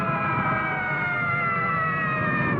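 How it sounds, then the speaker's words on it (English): Emergency sirens from Red Cross, fire department and police vehicles wail together in a loud, steady, overlapping chorus of wavering tones, continuous throughout with no voices. "You hear those sirens?"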